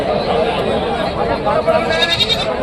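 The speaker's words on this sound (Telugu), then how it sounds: "లోకల్ మేకలు లోకల్ మేకలు" Local goats bleat amid the busy crowd chatter of a village animal market in Rajarampalli, their calls rising over steady background voices.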